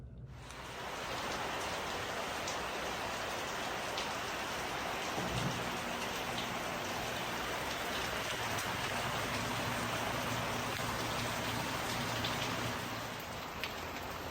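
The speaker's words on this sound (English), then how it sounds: "it's really raining out here" Heavy rain pours steadily outdoors over a garden strawberry bed in spring, a dense continuous hiss with a low thunder rumble partway through, and no voices.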